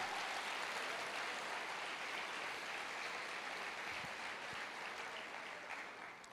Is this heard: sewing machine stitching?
no